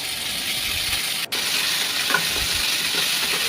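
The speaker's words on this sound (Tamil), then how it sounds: "தக்காளி சேர்த்து வதக்கிக்கோங்க" Tomatoes sautéing with ginger garlic paste in a pan, giving a steady, loud, close sizzling hiss that continues unbroken, apart from one brief dropout.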